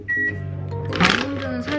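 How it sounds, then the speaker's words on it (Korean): A microwave oven running, a steady close electrical hum with a tonal whine and a short beep near the start, a voice briefly audible over it. "섞은 다음에 이거를 전자레인지 한 30초만 돌리래요."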